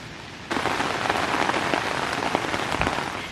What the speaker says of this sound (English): It's currently 1 in the morning and it's raining.